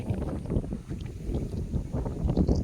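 A strong wind blows across an outdoor farm where tobacco and wheat crops are grown. It makes a steady low rumbling buffet that rises and falls for a few seconds, with no one speaking.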